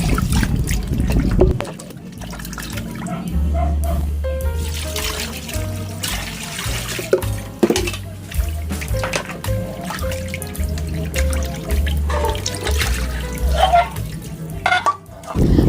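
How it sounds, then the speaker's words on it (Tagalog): Chopped pork legs are washed under a running tap, a steady close trickle and splash of water with irregular handling thumps and low sink rumble throughout, with no talking. "Pagkatapos nating machap, hugasan natin mabuti."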